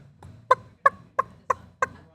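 A person imitating a wild turkey hen with a mouth call, five short sharp yelps evenly spaced about a third of a second apart, close and fairly quiet, with no speech.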